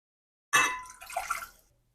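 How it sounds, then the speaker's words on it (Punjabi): A cup of water is poured into a frying pan in one short splash that fades over about a second, close and alone against silence. "ਵਿੱਚ ਇੱਕ ਕੱਪ ਪਾਣੀ ਦਾ ਪਾ ਲਓ"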